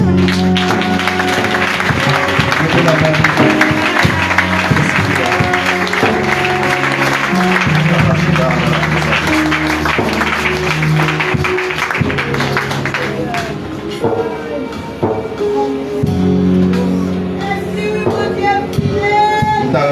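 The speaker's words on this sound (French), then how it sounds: "Est-ce qu'on peut applaudir cet esprit?" A crowd applauds with sustained clapping, mixed with loud music and voices.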